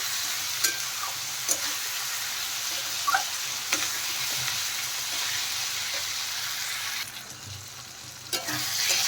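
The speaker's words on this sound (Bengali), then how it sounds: "এখন ভালো করে কষিয়ে নেব আমি" Tomato and onion masala softened with salt stir-fries in a pan, a dense continuous sizzle with occasional sharp taps and scrapes of the spatula against the metal, close and steady without speech.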